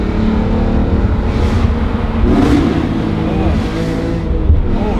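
A BMW E46 M3 CSL engine with a manual gearbox revving and pulling hard, a loud continuous cabin roar rising and falling through gears, with speech faintly mixed underneath.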